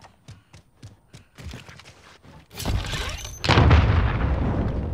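A grenade blast in Call of Duty, preceded by a run of quick footsteps and taps, then a deep booming explosion with a long rumbling tail, loud and close.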